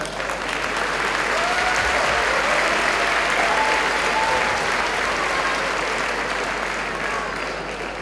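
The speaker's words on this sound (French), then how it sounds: "On peut se applaudir s'il vous plaît." An audience at a graduation diploma ceremony for the Pôle Léonard de Vinci class of 2017 claps in sustained, dense applause that fills the room from start to finish.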